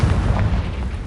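A Confringo fire spell explosion from Hogwarts Legacy, a loud, deep booming burst that rumbles for about a second.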